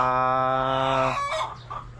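Pet chickens and a rooster: a loud, close crow rings out with a drawn-out harmonic call, then breaks off into a few softer clucks.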